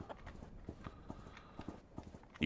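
A horse's hooves clip-clop at a walking pace in the video game Sunset Rangers, a faint, steady series of light knocks.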